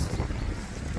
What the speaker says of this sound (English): I know it's windy up here